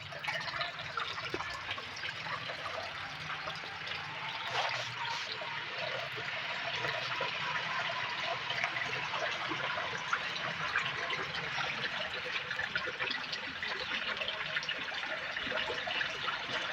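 Water trickling and dripping at a Hindu temple in Balasore, Odisha, a steady soft splashing flow that stays even throughout with no voices.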